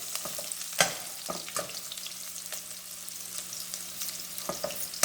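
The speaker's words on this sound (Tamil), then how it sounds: "வெங்காயம் இதையே போட்டு கொஞ்சம் வறுக்கலாங்க எண்ணெயில்" Onions fry in hot oil with dried red chillies for a prawn gravy, a continuous crackling sizzle broken by sharp spoon taps and scrapes against the pan.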